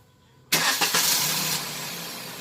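A Suzuki S-Presso car engine cranks and catches after a brief quiet lead-in, then settles into a loud, steady idle at close range with no talk.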